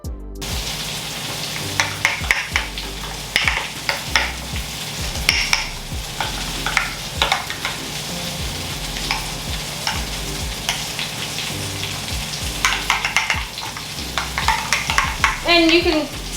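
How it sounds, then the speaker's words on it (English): A spoon stirs a creamy dill sauce in a pan, giving repeated soft scraping and clinking strokes over a low sizzle, close and fairly loud, with no talking. "I'm gonna stir it up."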